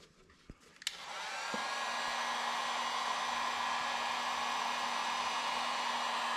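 A hot air blower heating plastic on an ATC 125M three-wheeler starts with a couple of clicks, then spins up into a steady, loud whooshing roar with a faint constant whine, running alone without speech.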